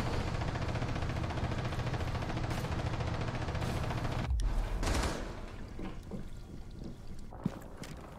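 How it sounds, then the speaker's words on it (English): Wild, sustained gunfire in Rainbow Six Siege, a dense burst of shots running loud for several seconds before cutting off and giving way to scattered quieter impacts and noises. "start firing wildly"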